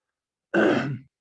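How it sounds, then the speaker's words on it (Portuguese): A single short, rough throat clearing, close and isolated against silence. "voltou o pigarro"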